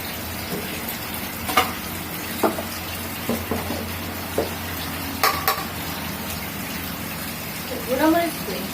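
Spice paste fries in a pan while being stirred. A continuous low sizzle is broken by repeated scraping clinks of a utensil against the metal, and a voice is briefly heard near the end.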